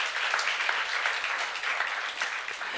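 Church congregation in a Korean sermon service applauding to God, a dense steady wash of many hands clapping at moderate distance, continuous throughout with no distinct voices.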